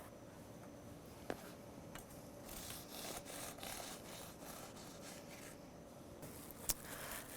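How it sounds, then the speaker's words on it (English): Quiet, close rasping strokes of a serrated knife sawing back and forth through a soft chocolate cream puff pastry, with a couple of small clicks. "it's important that you use a sawing motion so you don't tear up that wonderful texture that you achieved"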